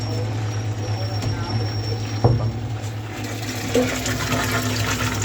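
An AC submersible water pump for a camper van bathroom runs with a steady low hum and rushing water, and a brief knock sounds midway.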